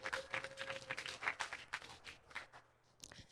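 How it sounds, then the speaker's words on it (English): Faint, scattered applause from a small audience welcoming newcomers at a community gathering of digital nomads, with brief claps and a little background murmur. "Yeah, round of applause. New people."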